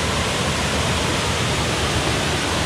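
The fifth waterfall at Erawan Falls in Thailand pours as a dense, continuous roar of falling water, loud and close, with no voices.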